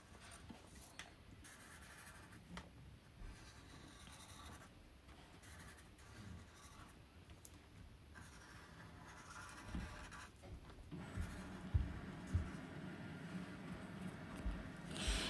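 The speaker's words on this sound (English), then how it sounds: "So we use Sharpie, black Sharpie." Black Sharpie marker drawing a cartoon pig on paper, with faint, close scratchy strokes in short bursts and some light tapping, quiet throughout and without speech.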